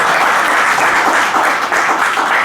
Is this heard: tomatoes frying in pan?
no